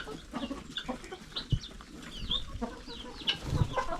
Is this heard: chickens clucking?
yes